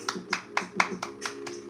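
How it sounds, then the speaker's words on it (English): A round of applause for a new team member, heard as a quick, even run of about seven claps with no voices over it. "Round of applause for Curtis."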